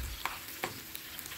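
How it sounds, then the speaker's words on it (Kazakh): Chopped onions fry in a generous amount of hot oil in a heated pan, a constant soft sizzle broken by a few sharp crackles and pops. "Енді қызып тұрған табаға май құйып, жаңағы пиязымды қуырып аламын."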